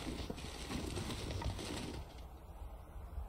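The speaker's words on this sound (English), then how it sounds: "More birds. Man, there are birds everywhere in this place." Birds calling and cooing, pigeon- or dove-like, in the survival video game The Long Dark, a steady layer of chirps and low coos over a dense ambient wash, fairly close and continuous with no talking.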